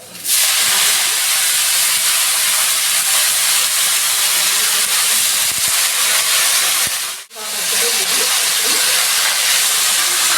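Radish greens and taro frying in a pan with turmeric and salt give off a loud, continuous hissing sizzle that drops out for a moment near the end before resuming.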